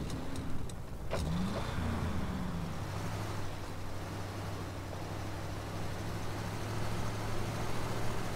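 A big truck engine in the SnowRunner video game runs with a steady low drone and rising revs, loud and continuous throughout, with a brief higher whine near the start.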